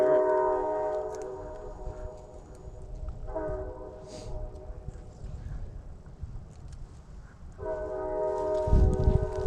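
A distant train horn blows in long sustained blasts, one early and another near the end, carrying across an outdoor trapping spot over low ambient rumble and wind.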